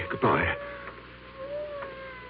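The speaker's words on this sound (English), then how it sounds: "I hear a cat. He must be right in this room, but I don't see him." A cat meows loudly once in a radio drama, followed by fainter mewing tones, with a quiet room background.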